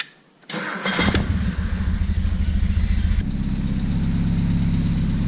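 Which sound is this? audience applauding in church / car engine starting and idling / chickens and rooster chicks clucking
car engine starting and idling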